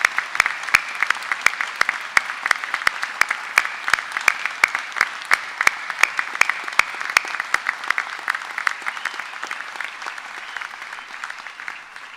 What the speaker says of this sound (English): Please can I ask everyone else in the room to join me in a round of applause for our graduates.